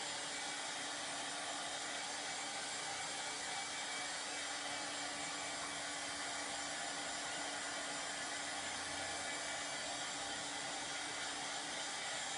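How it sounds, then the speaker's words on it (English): A hair dryer blowing steadily on a fabric pillow to dry it before heat pressing, a continuous close, even whooshing roar with no pauses. "I'm just drying it a little so I can get that heat press on it"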